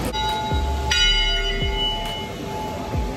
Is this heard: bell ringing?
yes